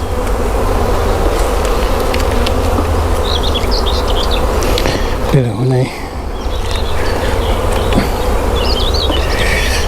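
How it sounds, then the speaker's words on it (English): Honeybees hum densely around open hive frames during a re-queening, a constant close buzz with individual bees zipping past, while someone speaks briefly over it. "Still got some bees in there, which is good."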